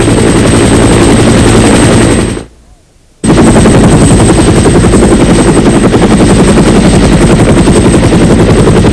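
Military helicopter rotor chopping loudly and steadily at close range, a dense pulsing roar that cuts out abruptly for under a second before resuming just as strong.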